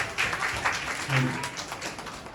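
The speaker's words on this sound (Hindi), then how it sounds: "प्रभु के लिए एक बार जोरदार ताली हो जाए।" A church congregation claps for the Lord, a moderate burst of applause that swells and fades over a couple of seconds, with a voice briefly heard amid it.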